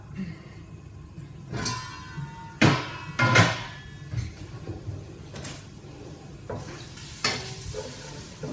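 Chopped onion fries in a pan with a low, steady sizzle, broken by several louder stirring scrapes and clatters close by. Quiet background noise continues throughout.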